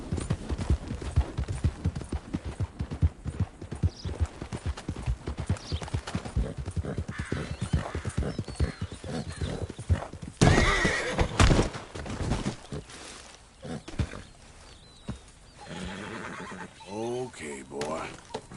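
Horse in Red Dead Redemption 2 neighing and whinnying, with hooves clip-clopping at a gallop; someone speaks over the hoofbeats.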